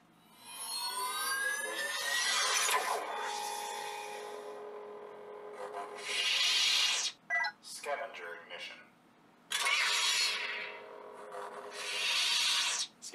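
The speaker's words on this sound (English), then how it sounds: "Phaser ignition" A Sabertheory Padawan Ani Xenopixel lightsaber plays a phaser ignition, with electronic sweeps and tonal whirs that rise and fall in several surges, broken by short gaps and brief crackling bursts.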